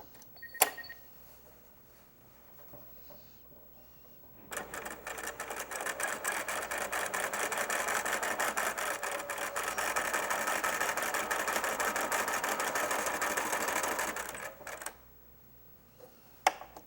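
A domestic sewing machine stitches a curved-edge quilt with bias binding, running in one long steady rattling burst of about ten seconds, preceded and followed by quiet handling clicks.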